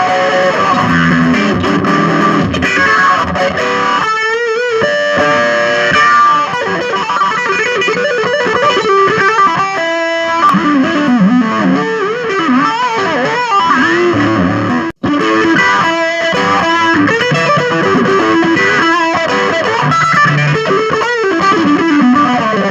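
Electric guitar played through a Zoom G2.1u pedal's effect placed before distortion, warbling and modulated with distorted tone, loud and continuous with short pauses between phrases, no talking.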